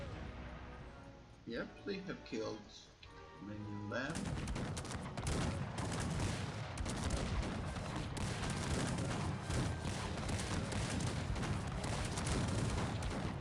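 Battlefield cannons fire in Cossacks 3 as a dense, continuous roar of overlapping booms and gunfire, loud and sustained after a quieter opening stretch, with someone talking over the barrage.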